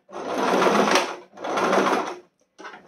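A sewing machine stitches a backstitch on fine fabric in two close, steady whirring runs of about a second each, followed by a brief short burst.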